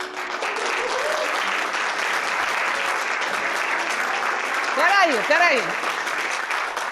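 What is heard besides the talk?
theatre audience applauding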